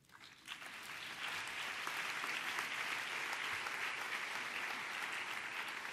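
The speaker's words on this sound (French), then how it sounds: "je voudrais vous demander d'abord d'applaudir notre grand frère, Andrea Riccardi." A large audience at a cooperation forum applauds for six seconds, a dense steady wash of clapping that swells in the first second and then holds loud and even, with no talk over it.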